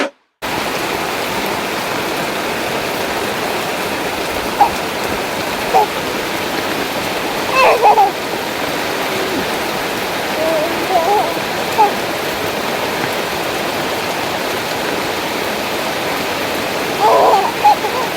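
Steady rain pours down in a dense, even hiss, with a few faint clinks and distant voices rising briefly over the downpour.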